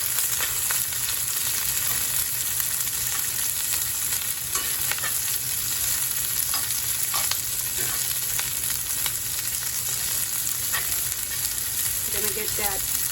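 Sliced onions and jalapeno fry in a hot pan as part of a ribeye steak and eggs breakfast, giving off a loud, continuous sizzle with occasional crackles and a few stirring clinks near the end.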